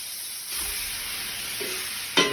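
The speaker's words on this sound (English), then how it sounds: "Put a nice sear on that." Homemade sausage sears in a hot pan with a steady close sizzle throughout, and a brief sharper scrape or stir near the end.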